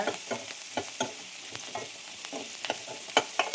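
Onions sauté in ghee for chicken kurma, a soft steady sizzle punctuated by frequent quick scraping stirs of a spoon against the pan.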